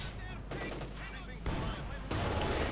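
Heavy tank cannon blasts in a Company of Heroes 2 battle, as a Soviet SU assault gun trades hits with a German Panzer IV; two loud booms break through a constant din of gunfire and rumble, with a voice talking faintly underneath.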